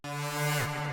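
A brief, buzzy warm phaser synth note with a sweeping, swirling character, sustained for about a second.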